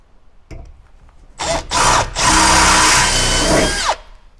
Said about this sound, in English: Going to drill that one out, drill the next one down, 5mm drill on both of those